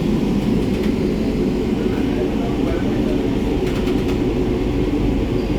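Kolkata Metro train running on the new Behala Taratala to Joka line, a steady low rumble and hum of the carriage throughout, with a voice speaking over it.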